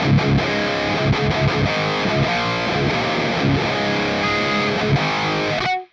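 Heavily distorted electric guitar through an MMS Clairvoyant amp simulator plays a chunky rhythmic riff, loud and dense, with chords ringing out and cutting off abruptly at the end.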